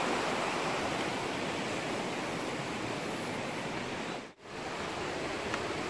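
Broad steady roar of the Pekalen river rushing over a dam, a dense continuous wash of water noise close by with one brief dip near the end, no voices.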